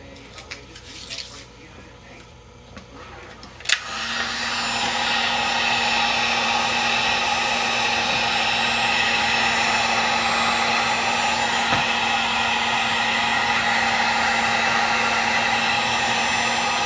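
Heat gun warming glue during restoration of a Philco 38-7CS radio, switching on after a brief clatter into a steady, loud airy blowing whine that holds unbroken to the end.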